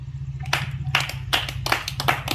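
Bursts of hand clapping, several quick claps in irregular groups, loud and close, over a steady low hum.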